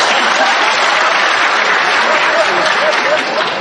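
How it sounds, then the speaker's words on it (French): Lecture audience at a Jacques Lacan seminar breaks into applause: dense, sustained clapping that is loud and steady throughout, with no speech over it. "cette constatation applaudie comme vous l'entendez"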